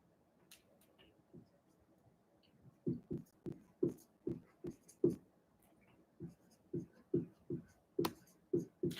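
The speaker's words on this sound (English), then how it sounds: "Let me just write this." Pen strokes scratching across paper as an argument is written out by hand, quiet and close, in short rhythmic bursts that pick up after a slow start, with no talking.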